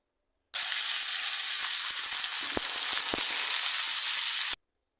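Boiled red amaranth greens fry with fish head in oil, giving a loud, dense sizzle that starts abruptly, holds steady with a few pops, then cuts off.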